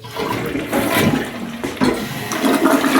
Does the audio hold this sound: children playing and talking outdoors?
no